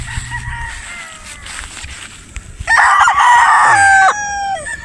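Sweater Boston bloodline gamecock rooster crowing once, loud and close, a ringing cock-a-doodle-doo rising in the latter half after quieter rustling and faint background sounds.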